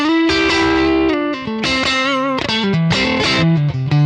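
Electric guitar through a 1957 Fender Bandmaster amp profile pushed to heavier breakup, loud close riffs mixing sustained notes and quick chord stabs with a throaty, fat tone, no voices.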